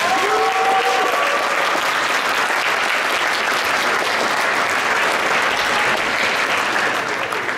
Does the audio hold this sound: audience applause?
yes